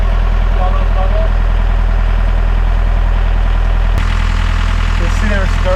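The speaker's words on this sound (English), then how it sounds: "the engine's been running for only like 6 minutes" A sailboat's inboard engine idles steadily with a low, even throb throughout, while people talk over it close by.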